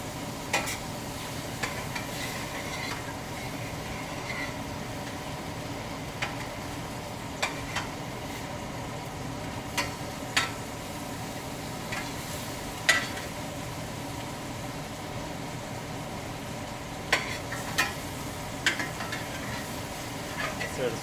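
A spoon stirs stewed apples in a pan with a soft, continuous scraping and faint sizzle, broken by small clicks and taps, close and fairly quiet.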